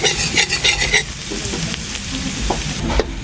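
Food is stir-fried in a hot pan, with steady loud sizzling and repeated scraping strokes of a utensil tossing the ingredients.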